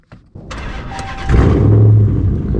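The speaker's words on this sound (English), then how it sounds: "go ahead and get this thing started" A six-speed Dodge Challenger R/T engine cranks and fires up, a short starter whir followed by a loud catch and rising rumble that settles into a steady idle, close and alone.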